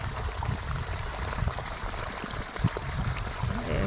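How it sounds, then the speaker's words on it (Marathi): Irrigation water flowing steadily into a young sugarcane field, a continuous close rushing and trickling with no voices. "शेतामध्ये पाणी सोडलंय छान असं"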